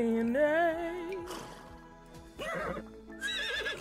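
An Arabian horse in The Sims 4 whinnies with a wavering, high neigh, followed by a second shorter neigh and snorting, with light hoof clops underneath and game music around it.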